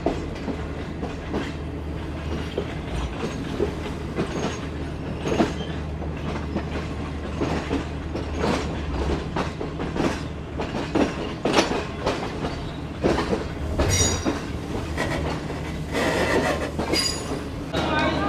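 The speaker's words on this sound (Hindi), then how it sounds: "तो फाइनली पहुंच चुकी है ट्रेन हमारी रोड़ी जंक्शन रेलवे स्टेशन पर।" Shalimar Express train pulling into platform 4 at Rohri Junction station: steady clickety-clack of wheels over rail joints and a low rumble, with occasional brief wheel squeals, continuous and fairly close.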